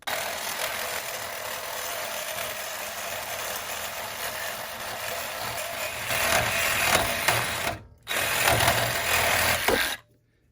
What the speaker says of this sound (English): we're using a Milwaukee hacksaw with a Diablo thick metal blade. It's gonna make this job easy.